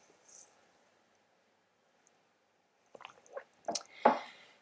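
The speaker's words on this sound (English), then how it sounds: "I'm just gonna have some water." A person drinks water: after a quiet stretch come a few soft liquid gulps and swallowing noises close to the microphone, ending in a louder sip or exhale, with no talking.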